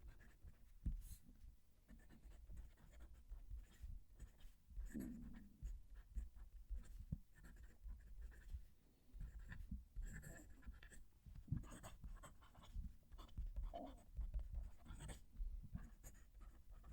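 Quiet scratching of a Moonman M800 fountain pen's broad nib moving across paper, close and intimate, with tactile feedback, irregular strokes and brief pauses.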